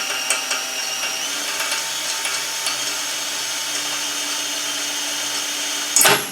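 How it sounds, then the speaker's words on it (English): A power drill bores into a car axle, running as a steady, fairly loud whine with small clicks and knocks before a sharp burst near the end. "Drill. Cut. Go as deep as you can. There's nothing to harm on this axle."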